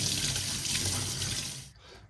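Tap water pouring into a crock pot with beef marrow bones for bone broth, a steady close hiss and splash that fades out as the flow stops.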